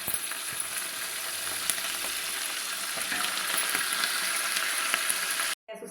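Curry leaves and tempering spices fry in hot oil, giving a dense, steady crackling sizzle with a few stirring scrapes, close and loud until it cuts off abruptly near the end.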